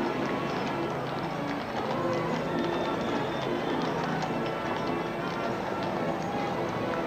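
Steady clip-clop of horse hooves on pavement from a unicorn-hitch team pulling circus wagons in the 1987 Great Circus Parade in Milwaukee, amid the busy hum of an outdoor crowd.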